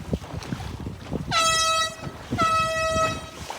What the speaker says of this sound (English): 2 horns means general recall.